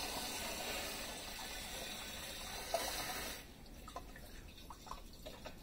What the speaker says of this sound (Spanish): lo primero que hay que hacer es poner un poco de agua en el fondo